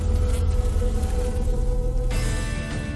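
A gang of tiny bees swarms a giant hornet, their dense buzzing drone filling the air loud and continuous at close range, with a brighter rush of wingbeats joining near the end.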